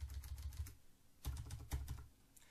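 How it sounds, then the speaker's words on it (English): Several sharp computer mouse clicks in small clusters, close and fairly quiet, with short gaps of near silence between them. "I'm going to click over here"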